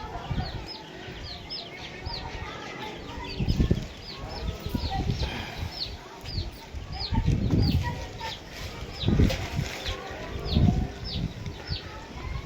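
Chicks and chickens cluck and peep in a village yard as a windstorm arrives, repeated high cheeps over gusty rumbling and clattering, with people talking.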